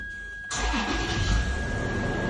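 A Toyota or Lexus car engine cranks and catches after a quiet half second, then settles into a steady idle hum that continues to the end.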